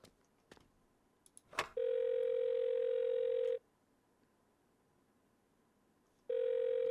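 Telephone dial tone in a horror video game set in a karaoke room, a steady electronic tone sounding for about two seconds, breaking off, then resuming after a pause, preceded by a few soft clicks and knocks.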